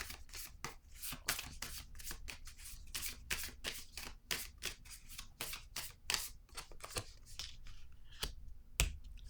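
Tarot cards are shuffled by hand close up: quick, crisp riffles and snapping flicks come in irregular bursts, fairly quiet, with no one talking.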